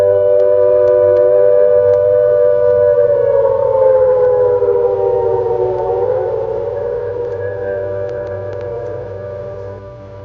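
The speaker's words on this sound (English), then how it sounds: "Sirens are now sounding and have sounded the attack warning." A civil defense attack warning siren wails loud and steady, its rising and falling tone sliding down in pitch, alone for about ten seconds before fading slightly at the end.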